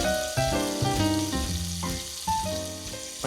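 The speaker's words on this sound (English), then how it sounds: "the pancetta right now, as it's reducing, as it's frying into the olive oil" Pancetta fries in olive oil in a pan, a steady crackling sizzle running throughout beneath louder background music.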